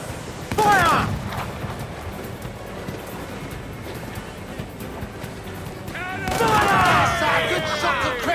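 Ship cannons in the Assassin's Creed IV naval game boom in two loud bursts, one early and a longer heavy volley near the end, over rolling sea and battle ambience with shouted voices in between.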